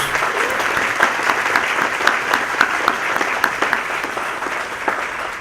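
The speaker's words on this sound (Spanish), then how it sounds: "Un fuerte aplauso para todos." Audience applause fills a hall at a book fair, steady and fairly close, with dense overlapping claps and a few sharper individual hits throughout.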